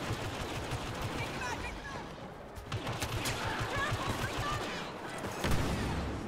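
Blaster gunfire in Star Wars Battlefront PC multiplayer comes as rapid, overlapping bursts of shots with sharp bangs, fairly quiet overall, in a busy battle scene.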